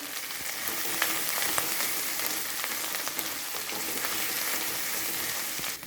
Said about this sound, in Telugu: పోపు ఇలా వేగిన తర్వాత ఇందులో ఇంతకుముందు నూరుకున్న గోంగూర పచ్చడి వేసుకుందాం వేసుకొని బాగా కలుపుకోవాలి